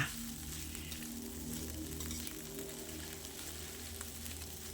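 Egg fried rice made with cooked jasmine rice being stir-fried in a pan, a steady close sizzle and crackle with faint scraping of the stirring, no voices.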